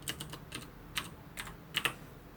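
Keystrokes on a computer keyboard, including presses of the Enter key, come as a handful of crisp clicks. They are spaced unevenly, with a quick double tap near the end, close and clear and with no talking.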